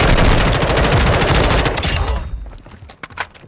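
Gunfire in Call of Duty Modern Warfare II Resurgence, dense loud automatic bursts for about two seconds that thin out into scattered single shots and a quieter tail.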